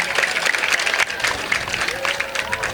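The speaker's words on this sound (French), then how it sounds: "Applaudissez votre principal." Students applaud their school principal at a junior high school English club opening day, a steady wash of clapping from a crowd filling the room throughout.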